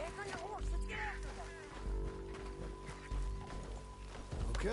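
Rhythmic clip-clop of horse hooves at a steady gallop in Red Dead Redemption 2, fairly close, with a sustained tone and background sounds running underneath.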